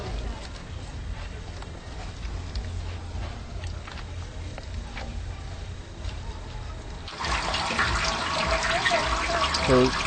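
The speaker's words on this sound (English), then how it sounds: "Now we're putting the contents back into the pot to get ready to boil them." Pito brew mixed with okra stems being poured back into a pot, a steady wet wash of liquid that grows louder and splashier toward the end, with voices talking over it.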